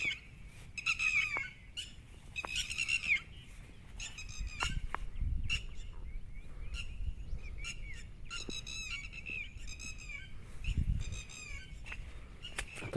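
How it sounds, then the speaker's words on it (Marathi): Lapwings call repeatedly over rain-soaked Konkan fields where bullocks graze, their sharp, high, ringing cries coming in bursts of several notes, fairly near, over a steady wash of rain and running water. "आणि टिटावटळींचा आवाज आहे का."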